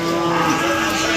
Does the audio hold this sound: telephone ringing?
no